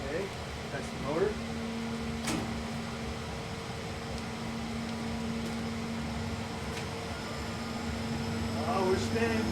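A Monarch 10EE lathe's motor hums steadily, a low constant drone with faint mechanical whine, while someone talks briefly over it.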